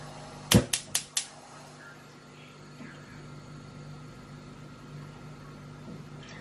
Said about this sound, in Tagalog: turn on na natin yung ating stove